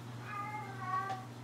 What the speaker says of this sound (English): If you hear something saying hello in the background, that is actually my cat Bandit.